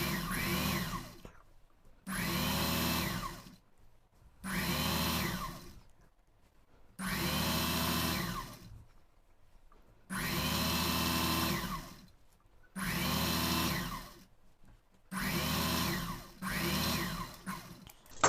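A sewing machine stitches a double seam along the yoke of a chudithar pant in repeated bursts of steady whirring, each lasting one to two seconds and separated by short pauses, moderately close.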